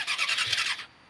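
Yamaha R6 sport motorcycle engine gives a short, loud high-pitched rev lasting under a second, then cuts off abruptly to quiet.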